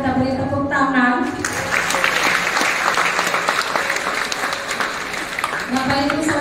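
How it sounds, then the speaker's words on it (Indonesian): Applause for a newly married couple at a church wedding, a dense burst of clapping that swells after a short spoken lead-in and carries on steadily, with a voice returning over the clapping near the end. "Bapak Ibu Saudara, mari kita beri tepuk tangan."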